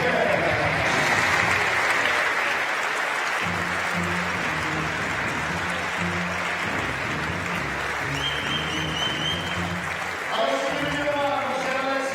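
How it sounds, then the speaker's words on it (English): An audience applauds steadily at a compound women's archery bronze-medal final in Nimes, a broad, even wash of clapping lasting throughout while an announcer speaks over it. "Mesdames et messieurs, encore une fois, vos applaudissements, s'il vous plaît."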